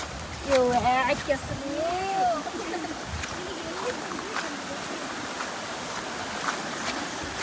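Small waterfall flowing beside paddy fields, a steady, moderate rush of water heard throughout, with chirping birds early on and faint voices in the background.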